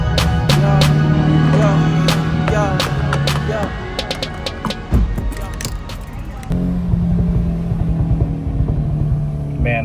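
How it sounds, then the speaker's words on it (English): A Volkswagen Golf GTI or R is driving and its exhaust pops, giving a rapid run of sharp, loud crackles over the steady engine drone. The crackles drop off for a moment, then the engine hum and more pops return. "Man, those pops sound good."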